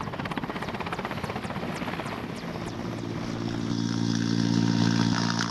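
An Indian Air Force Mi-17 1V helicopter flies over snow-covered army posts on the Siachen glacier, its rotor thudding in a fast, steady chop with a loud engine whine that grows slightly louder and denser toward the end, heard from inside the cabin.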